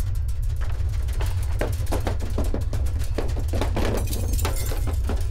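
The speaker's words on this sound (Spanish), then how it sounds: "No se sorprenda del sonido del rompimiento de vidrio" Repeated sharp shattering and clinking of glass during an earthquake, over a constant low rumble, with bursts of breaking scattered across several seconds.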